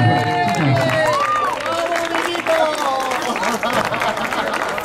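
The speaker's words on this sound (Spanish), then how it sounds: "Un aplauso" Crowd at a school pétanque awards ceremony applauds the third-place Open team, Prado Mayor A, with scattered clapping and a few cheers mingled with nearby voices and chatter.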